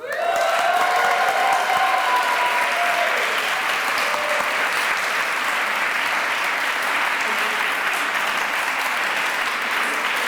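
An audience at a preaching prize competition gives sustained applause for the finalists, with thick, even clapping and a few cheers and whoops rising early on before settling into steady clapping.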